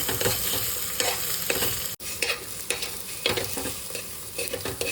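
Food stirring and frying in a pan, a steady close sizzle broken by repeated scraping strokes of the spatula and one brief dropout, with no talking.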